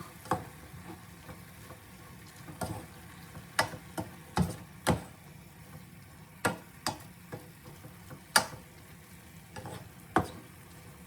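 Bihon noodles with pork, pepper and salt are stirred in a pan, with sharp intermittent scrapes and clinks of the utensil over a faint, steady sizzle.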